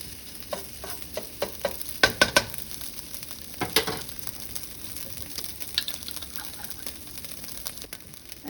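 Garlic sizzling softly in a frying pan while a utensil stirs and scrapes it, irregular close clicks and scrapes over a steady faint hiss, no voices.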